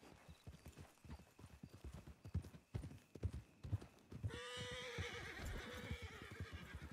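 Horse hooves clip-clop at a steady riding rhythm in a video game, with whinnies and neighs, growing louder and denser over a busier backdrop in the second half.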